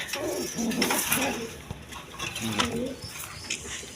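Pigeons at a farm coo softly over a steady rustling background, with low murmuring calls and light fluttering patter, fairly close.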